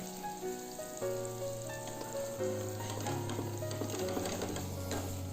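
Black pepper, cinnamon, cloves and fennel seeds frying in rendered chicken fat, a steady close sizzle with light stirring scrapes and clinks throughout, a faint tonal hum running underneath.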